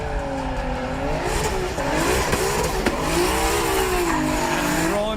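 A drift car driven by Adam LZ at a competition event revs hard up through the gears, engine pitch climbing and dropping with each shift while the tires squeal steadily, loud and close throughout.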